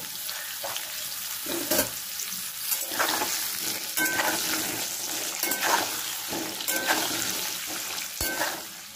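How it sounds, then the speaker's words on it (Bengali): Potatoes sizzle as they fry in a pan of oil for chicken kosha, a steady crackle broken by repeated scraping stirs, close and clear, with no talking. "এবার আলুগুলো ছাড়লাম। হালকা লাল লাল করে ভেজে নেব।"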